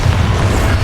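A Bombarda blasting spell explodes in Hogwarts Legacy, a short, heavy, low boom that stays loud and rumbling from start to finish with no break.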